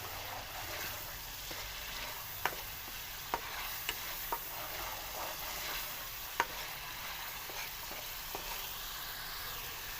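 Garlic-ginger paste frying with onions in a cooking pot for aloo gosht, a steady soft sizzle throughout with a few sharp clicks of a spoon stirring against the pot, no voices.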